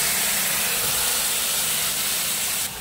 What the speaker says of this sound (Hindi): तो ये सेम पैन में हम अपना मैरिनेटेड चिकन डाल देते